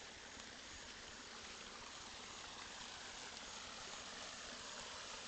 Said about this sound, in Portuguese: Tá bonito aqui o Riacho do Cajueiro.